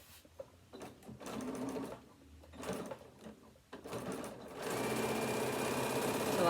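A sewing machine stitches a quarter-inch seam joining fabric pieces for a card wallet, running in short bursts with pauses and then one longer continuous run, close and clear.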